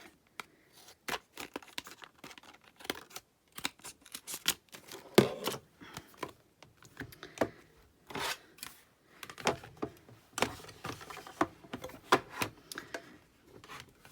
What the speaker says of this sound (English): I'm just going to run it through on this scrap piece of card, just cut it down.